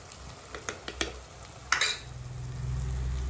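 Fish frying in hot oil with kudampuli and black pepper, a steady sizzle broken by a few sharp stirring clatters, swelling into a louder continuous crackle toward the end; no talking.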